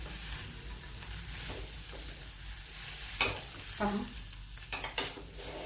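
Papdi bean vegetable cooking in a pan as ground peanut powder is added, a low sizzle broken by close scraping and clinking stirring strokes against the pan, with no talking.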